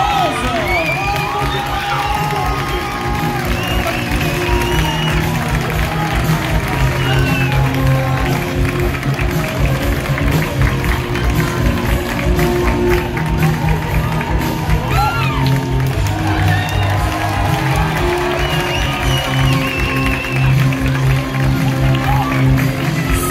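An audience at a Miss Loire pageant in Saint-Chamond applauds and cheers for a runner-up, with dense continuous clapping, shouts and crowd noise sustained and loud from start to finish.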